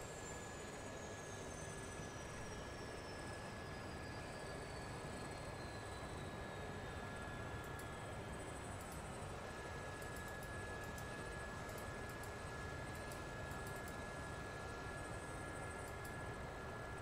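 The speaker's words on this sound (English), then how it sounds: "Well, I think my rotor's still running." A helicopter rotor still running in the DCS World video game: a steady, faint broadband whine and hum with a high tone and a slowly falling pitch sweep, unbroken throughout.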